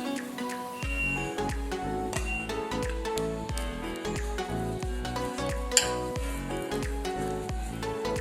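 Ghee added to a coconut mixture in a pan with the gas turned off, giving a steady sizzle under rhythmic stirring scrapes and a few light clinks, close and alone.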